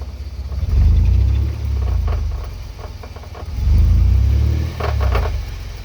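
A truck fitted with a shaved GM 14-bolt axle driving slowly under light throttle, its engine swelling and easing in two loud surges with a low rumbling drone and faint grinding overtones.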